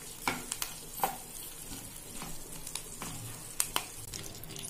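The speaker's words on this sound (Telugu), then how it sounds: "కరివేపాకు 2 మినిట్స్ ఫ్రై చేసుకుందామండి" Mustard seeds and curry leaves crackling in hot oil, a faint continuous sizzle dotted with sharp pops and spatters at irregular moments, close by, with no voices.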